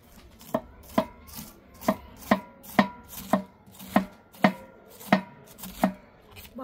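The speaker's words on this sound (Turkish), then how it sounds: "Bakın dostlar böyle ince ince doğrayacağız." Tomatoes being finely chopped with a new kitchen knife, about a dozen crisp, evenly spaced blade strikes on a cutting board, close and clear with no talking.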